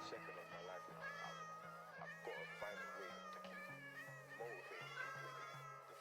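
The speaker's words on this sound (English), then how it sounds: "This village has just been overrun with cats." Many Minecraft cats meow over and over in an overrun village, overlapping cries rising and falling against a steady in-game tone, quiet overall.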